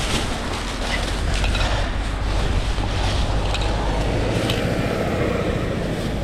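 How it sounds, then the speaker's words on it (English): Gusty outdoor wind in London roars steadily across the microphone, a dense broadband buffeting that stays loud and unbroken throughout, with no voices. "it's quite windy actually"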